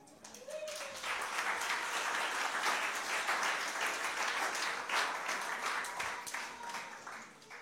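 A church congregation breaks into sustained applause and cheering, a dense wash of clapping that swells quickly and holds steady near the listener before tapering off at the end.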